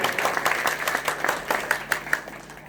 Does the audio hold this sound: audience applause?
yes